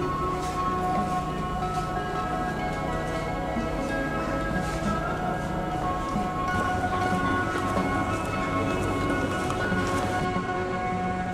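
A train rumbles steadily along with a continuous hum and faint rhythmic clatter, heard from inside a carriage in Catalonia, Spain, for the whole stretch.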